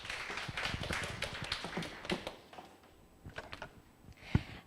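Scattered applause from a small seminar audience at a Korean labour-law exam briefing, quiet and uneven, thinning out partway through before a few last claps.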